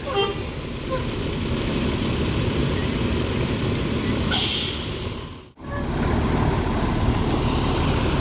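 Gumarang Jaya Jetbus Novin 47 idling at Poris Terminal, a steady low diesel drone with a brief hiss of air near the middle and a sharp dropout just after, continuing evenly to the end.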